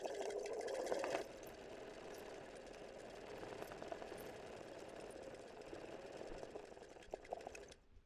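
A sewing machine runs steadily for free-motion embroidery of letters, a continuous close whirring hum with a slightly louder opening second, then an even motor drone until it stops just before the end.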